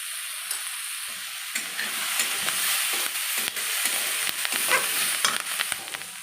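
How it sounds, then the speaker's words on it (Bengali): Cauliflower pieces, lightly steamed and salted, fry in oil in a pan with a steady close sizzle, punctuated by repeated stirring scrapes and clicks throughout, with no talking. "এটা ভাপে একটু সেদ্ধ হয়ে গেছে, এবার ভাজা ভাজা করে নেবো।"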